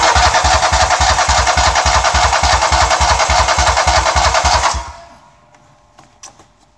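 Toro engine that sat all winter cold cranking with a steady, rapid chugging rhythm, loud and close, for nearly five seconds before the cranking stops and fades to near quiet with a few faint clicks.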